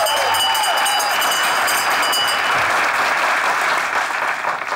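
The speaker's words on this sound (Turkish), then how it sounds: "Hakikaten bir daha bir alkış yani." A studio audience on a Turkish comedy show breaks into loud, sustained applause and cheering, a dense wash of clapping that holds steady without a break.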